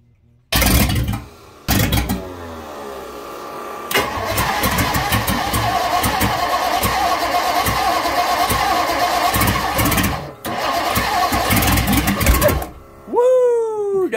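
1958 Ford Thunderbird engine cranking with the starter, with short bursts at first and then a long, loud rough stretch of running or cranking, a brief drop-out, and a final whirring wind-down, heard up close.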